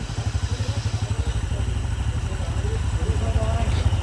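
Motorcycle climbing the mountain road up to the Kali Talang ecotourism site on Merapi, its engine chugging in a steady, close, loud pulse that thickens and grows rougher toward the end.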